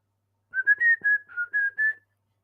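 A person whistles a short, clear tune of about seven sustained notes, close and alone, lasting under two seconds.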